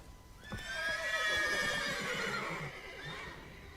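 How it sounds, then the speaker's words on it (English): Horses in The Witcher 3 give a long, bright whinny after a sharp onset, with a second shorter neigh trailing off near the end, close and clear over faint hoof and movement sounds. "Gotta calm all the horses before they wake the guards."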